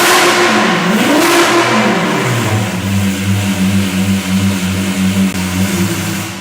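A Lamborghini Aventador V12 engine with an aftermarket exhaust revs loudly up close, pitch swooping up and down before settling into a deep, pulsing idle.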